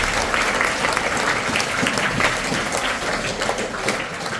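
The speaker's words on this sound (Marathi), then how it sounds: "अजिंक्यसाठी सर्वांनी एकदा टाळ्या वाजवा" An audience at an academy for Navodaya exam students applauds a student who solved a puzzle quickly, dense close clapping sustained at a fairly loud, even level.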